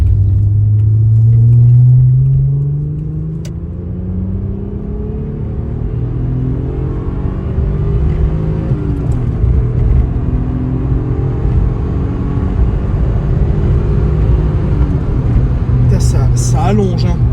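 A Mazda MX-3 fitted with a small V6 accelerates hard, its engine note climbing steadily through the revs with loud, continuous rumble from inside the car, and a voice speaking over it.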